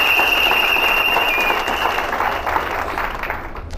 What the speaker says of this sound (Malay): Ya, tepukan bagi syarikat Erken.